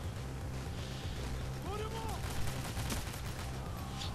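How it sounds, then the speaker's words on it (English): Heavy gunfire in the game Payday The Heist on the Green Bridge level, a dense continuous barrage of shots and impacts under busy game noise, with brief tonal effects midway. "I'm getting shot heavily."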